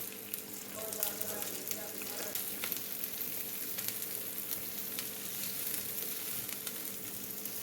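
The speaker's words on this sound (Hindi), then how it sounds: "तेल गर्म हो गया, अब डाल देंगे शिमला मिर्च और ये सब्ज़ शिमला मिर्च, और ये है दूसरी तेज़ वाली मिर्च" Bell peppers and hot chilies frying in hot oil give a dense, steady sizzle with crackling pops, close and continuous throughout.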